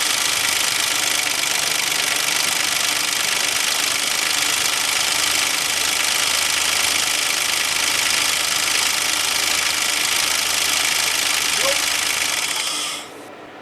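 A car engine with newly fitted oil-driven timing chain tensioners runs loud and steady with a constant mechanical rattle, then cuts off abruptly at the very end.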